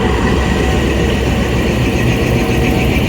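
The Subak Kharram rail car on its inaugural run rumbles from inside as it moves off, a loud, steady low engine and rail drone with no pauses.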